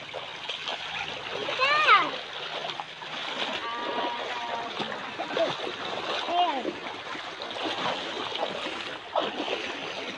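Splashing in cold, clear water, repeated light splatters running under almost constant talk and a voice throughout.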